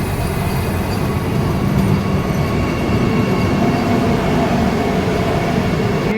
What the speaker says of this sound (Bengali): এদিকে হাওড়া পুরী বন্দে ভারত এক্সপ্রেসও বালেশ্বর স্টেশন পৌঁছে গেছে